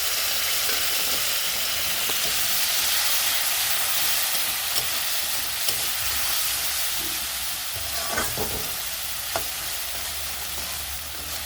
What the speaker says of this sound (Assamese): কাজু, পোস্ত, পিঁয়াজৰ পেষ্টখিনি মই বেছি সময় ফ্ৰাই কৰি নল'ম